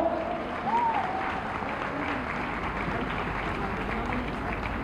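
A large audience at a stage event applauds in sustained, dense clapping that stays fairly even throughout, with faint crowd murmur mixed in.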